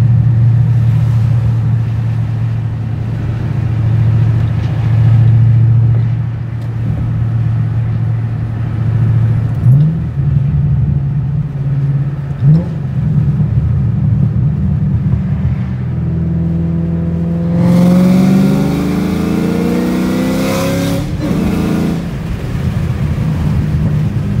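A 2009 Shelby GT500 V8 holds a loud, steady rumbling drone as its tires spin without traction, then revs climb sharply in a rising sweep near the end, close and alone with no talk.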